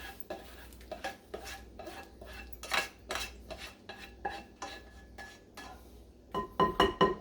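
A spoon stirs penne in a metal pot for chicken bacon ranch pasta, making repeated close clinks and scrapes in an uneven rhythm that turns into a quicker flurry of clatter at the end.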